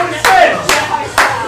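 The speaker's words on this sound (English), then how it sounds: "Another big clap there." Three short bursts of clapping at a darts match, each a sharp broadband onset that fades over about half a second, spaced fairly evenly and fairly loud.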